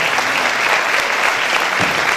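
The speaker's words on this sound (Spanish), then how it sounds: "así que aplauso para Noli" An audience at a Galician song festival event applauds, a dense sustained burst of clapping from a crowd filling the room at close range.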